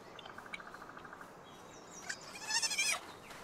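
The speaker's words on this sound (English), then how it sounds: "I'm literally using this poor little sheep as a shield." A small sheep-like creature in Palworld gives a short, quavering bleat near the end, preceded by a faint rhythmic ticking over a quiet low hum.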